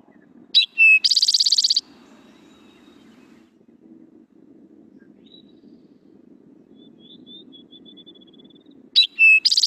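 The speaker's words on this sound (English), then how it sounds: "This is an eastern towhee that is often represented as drink your tea, with the tea drawn out very long at the end." An eastern towhee gives its drink-your-tea song twice, a few sharp introductory notes followed by a drawn-out buzzy trill, clear and near, with a long gap of low background rumble between the two songs.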